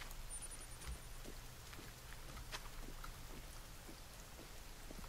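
Steady rain pours down in the survival video game The Forest, a soft continuous hiss with scattered drop patter and no voices.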